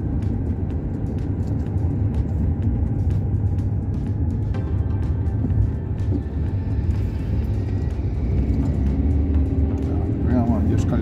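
Car driving at night through Jerusalem streets, a steady low engine and road rumble running continuously throughout, with a voice talking over it.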